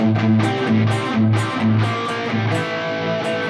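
Chords strummed on a distorted electric guitar in a choppy rhythmic pattern, with evenly spaced bright accents and no voices.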